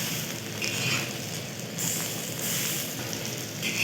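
Red lentil fritters fry in hot oil in a pan, giving a close, steady crackling sizzle that swells and eases slightly, with no talking.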